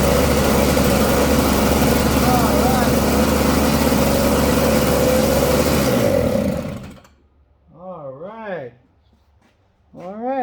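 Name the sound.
Snapper snowblower engine starting and running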